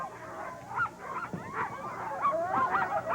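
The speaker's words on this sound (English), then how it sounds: "A psyched up dog team ready to take off here on 4th Avenue" Excited sled dog team yelping, barking and whining at the start line of the 1983 Iditarod ceremonial opening on 4th Avenue, Anchorage, Alaska; a continuous, close, overlapping chorus of high yips and whimpers with no talk.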